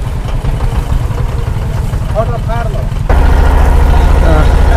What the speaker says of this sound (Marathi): मगाशी होता रोईंग बोट, आता आहे स्पीड बोट, मोटर बोट आहे.